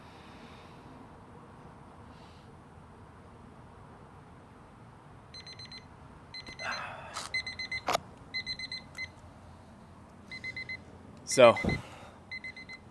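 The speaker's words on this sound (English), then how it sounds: "I need the orange timer to go off before the white one up there" Two kitchen-style timers sound off in turn, each giving short repeated electronic beep bursts in a steady rhythmic pattern, fairly close and moderately loud, with a few sharp clicks and a brief word spoken in between.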